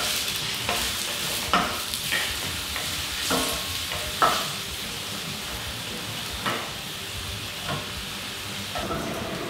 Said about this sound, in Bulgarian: Оставям ги да се нагреят хубаво, след което мога да добавя лука, а малко след него и останалите зеленчуци